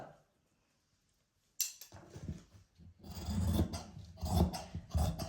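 Fabric is being cut for a garment sleeve. A moment of silence gives way to close, scratchy rasping bursts of blades working through cloth in uneven strokes, and no one speaks.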